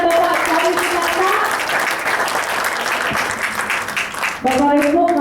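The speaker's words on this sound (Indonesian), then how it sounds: "bisa kita berikan tepuk tangan yang luar biasa" Applause from an audience at a business presentation in Malang, a dense, loud wash of clapping throughout, with a voice talking over the start and end.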